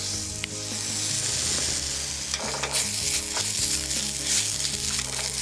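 Onions sizzle loudly in a pan with a little ginger and garlic for a vegan kheema mutter, a steady close frying hiss with light stirring scrapes and no talk.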